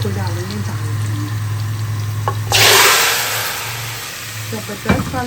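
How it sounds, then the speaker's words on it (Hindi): Hot tadka is poured into dal, bursting into a loud, close sizzle that hisses for a couple of seconds and then settles back under the cooking sounds, with a few clinks around it. "हम तड़के को डालेंगे दाल में।"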